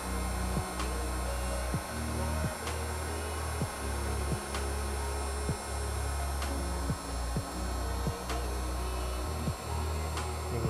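Heat gun steadily blowing while warming ORACAL 970RA vinyl wrap on an interior car trim piece, a continuous close airflow whir and hum with faint repeating ticks, no talking.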